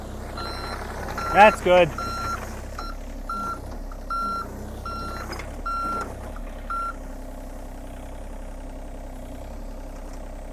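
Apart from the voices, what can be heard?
truck reversing beeps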